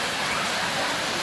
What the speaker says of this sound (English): Look outside. It's raining.